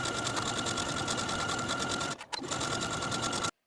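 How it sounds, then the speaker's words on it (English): Sewing machine running steadily as it stitches a dress seam with a 3/8 inch seam allowance from neckline to tie, a continuous close mechanical whir with a brief pause near the end. "I'm going to sew from the neckline to the top of the tie with a 3/8 inch seam allowance"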